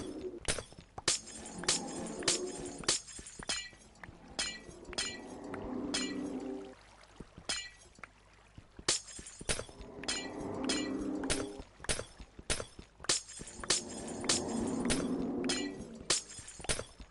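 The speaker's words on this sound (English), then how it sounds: "Let's see what happens if I knock out some more glass." Glass blocks breaking one after another in Minecraft, a run of sharp clinking shatters against a low, washy underwater background.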